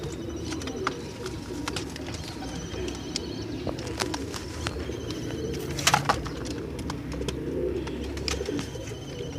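Domestic pigeons coo steadily at a busy outdoor pigeon market in Multan, their soft repeated calls layered over a constant crowd murmur and scattered background noise, with a brief louder burst midway.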